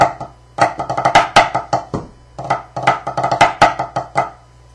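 Snare drum figure played solo, with light foot taps marking the accents; a run of crisp, close strokes in rhythmic bursts separated by short rests, no talking.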